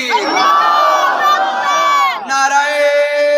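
At a Muharram religious gathering, a large crowd shouts back a slogan in unison, a loud, massed chant of many voices. It rises in one long surge, dips briefly, then swells again.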